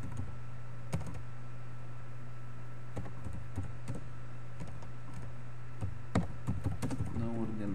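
Keystrokes on a new computer keyboard, with irregular clustered clicks over a steady electrical hum, near and fairly quiet, while someone works through HTML code.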